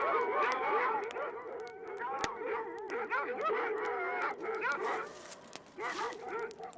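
A pack of hunting hounds bays and barks nonstop while chasing a fox, their overlapping yelps and howls forming a dense, loud chorus throughout.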